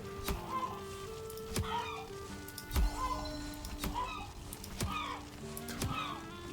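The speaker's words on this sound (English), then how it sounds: "We're going to cull off a couple of these chickens." Chickens in the Valheim video game, clucking repeatedly in short, evenly spaced bursts with sharp clicks between them, fairly close and clear with no voices over them.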